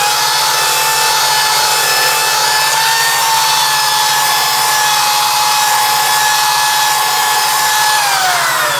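A woodturning lathe runs steadily while its live center is cleaned, giving a loud continuous whirring hiss with a sustained tonal hum. Near the end the pitch drops slightly.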